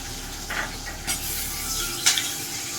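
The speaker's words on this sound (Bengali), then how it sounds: "এবারে কাজুটাও একটু ভেজে নিচ্ছি।" Cashew nuts frying in a pan, a steady close sizzle with a few scraping stirs and one sharp clatter near the end.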